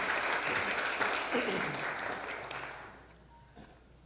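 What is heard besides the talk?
congregation applause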